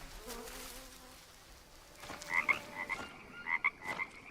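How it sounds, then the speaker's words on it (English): A loud frog croaks several times in a survival VR video game, sharp bright calls repeating in uneven bursts over buzzing insects, after a quieter stretch of low ambience. "Why is that frog so loud?"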